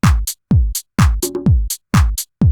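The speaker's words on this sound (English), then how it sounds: "So we have a bass drum, hand clap, a shaker, a conga, and then this chord sample right here." Looped house beat with a booming bass drum on every beat, a snappy hand clap, shaker and conga hits, and a short chord stab, tight, loud and repeating.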